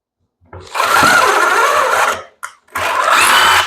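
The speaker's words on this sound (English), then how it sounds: "go ahead and get a screw and just drive it into the areas that are going to be hidden by your trim board" A power drill drives a screw into a wall to probe for a metal stud behind where trim will sit: two loud, close whirring bursts, the first about a second and a half long, the second after a brief pause.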